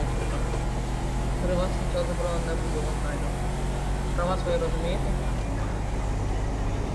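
A vehicle engine idles with a steady low hum throughout, while two people talk over it in Ukrainian.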